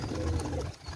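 Highflyer baby pigeons coo softly at close range, a brief low throaty murmur lasting about a second with faint background noise.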